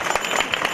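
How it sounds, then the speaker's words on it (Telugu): Brief burst of crowd clapping at an outdoor Ganesh festival celebration in Sangareddy, a short dense patter of many hands. "ఒకసారి చప్పట్లు కొట్టండి"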